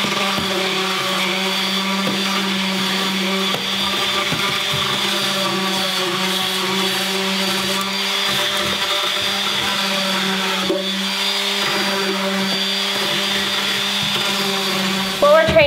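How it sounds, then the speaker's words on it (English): A power sander rounds the edges of a rough-finished wooden pumpkin lantern decoration with a steady, loud droning whine and a constant hum, with slight grinding variations as it works along the wood. "the last thing we're gonna do to finish it off is just sand our edges and round it off"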